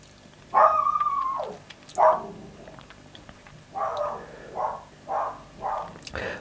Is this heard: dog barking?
yes